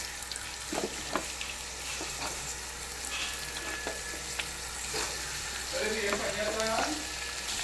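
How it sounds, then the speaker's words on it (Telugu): Cashews frying in a pan with onions for a mutton curry: a soft, continuous sizzle with occasional stirring clinks, and a brief murmur of voice near the end. "జీడిపప్పు కొంచెం వేగాక ఆనియన్స్ వేసుకోవాలి ఫ్రెండ్స్."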